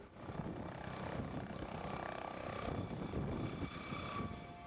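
A rescue helicopter flies over the Grand Canyon, its steady rotor and engine drone holding at a moderate distance throughout with no talking.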